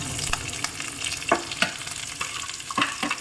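Green chilies, dried red chilies and onion sizzle in a pan, a continuous loud crackle with sharp stirring scrapes and pops recurring every half second or so, close and free of talk.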